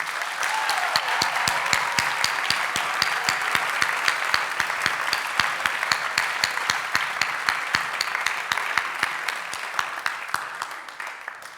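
An awards ceremony audience gives a sustained round of applause, a thick continuous clapping crowd with some louder individual claps standing out sharply throughout.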